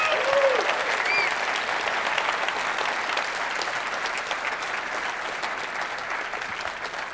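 Keynote audience at Unreal Academy London 2019 applauding and cheering, a dense wash of clapping that holds steady for the whole stretch, with a few whoops rising over it.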